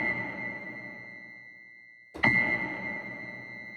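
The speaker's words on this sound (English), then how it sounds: "leaves you with those long, almost sine-like tones" A Detonator Rage effect holds a long, pure, sine-like sustained tone that slowly fades before a fresh note strikes and rings on steadily, clear and close with no talk.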